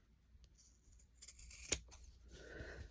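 Scissors snip across the corner of a fabric coaster being sewn, giving a faint, quiet single cut with a brief sharp click in the middle.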